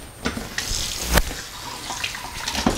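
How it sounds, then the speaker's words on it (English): Water pours from a kitchen tap to rinse a pot cover, a steady running splash with a few sharper knocks and clatters of the lid, close by and without talk. "Always remember to rinse off your cover."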